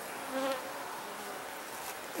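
Bees hum in a soft, steady buzz, fairly faint and continuous, with one slightly louder pass as an insect flies close.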